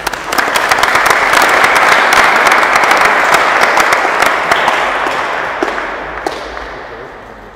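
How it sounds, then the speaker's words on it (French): An audience at a basketball passing clinic claps steadily, the applause swelling over the first two seconds and then slowly fading, with a few sharper individual claps standing out near the end. "C'est vraiment que vous les applaudissez, parce que c'est pas facile."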